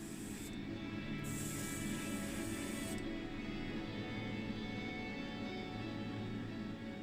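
A tack coat of spray paint is applied to a 1979 Matchbox No. 38 camper model, a faint continuous hiss of spraying with brief bursts near the start.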